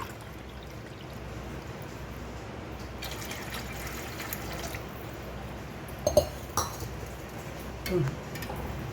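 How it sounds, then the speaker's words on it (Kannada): Water poured cup by cup into a pan while making kesari bath: a steady, soft rushing wash with a few light clinks of metal near the end, no speech. "3 ಲೋಟ ನೀರು ಹಾಕಬೇಕು."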